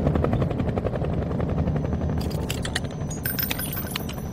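Helicopter flying away in the video game Nightmare House 2, a loud rapid rotor chop with some metallic clinking near the end, no voices.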